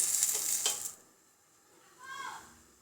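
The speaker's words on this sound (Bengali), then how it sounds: "এখন এর ভিতরে আমি তেল দিয়ে দিলাম।" Oil goes into a hot pan of coriander leaves for a tomato sour soup and sizzles sharply for about a second, then dies away. A brief voice follows.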